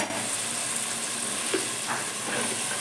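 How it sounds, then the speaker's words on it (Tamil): Carrots and beans sautéing in hot oil make a steady, broad sizzling hiss, continuous and close, with a few faint clinks over it. "எண்ணெயில் 1 நிமிஷம் வதக்கி விட்டுருவோம்"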